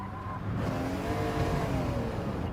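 A race car in Gran Turismo 7 on the Sardegna circuit slides under the handbrake, its tires skidding over a steady, loud engine drone that holds through the whole stretch with no voices.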